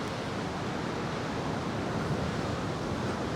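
Big sea waves churn and roar during a storm at Paphos, a continuous loud wash of surf mixed with wind buffeting the microphone, with no voices.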